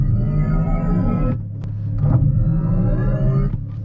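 Electric Mercedes EQS AMG (761 hp) doing a race start from standstill: a loud, steady low rumble with drivetrain whine, a brief dip then swelling again as the car shakes.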